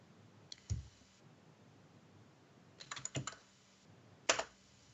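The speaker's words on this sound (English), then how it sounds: "I'm sorry if you guys hear me angry typing in the background." Angry typing on a computer keyboard during a Star Wars: Galaxy of Heroes session, sparse bursts of sharp key clicks in quick clusters, fairly faint against a quiet background.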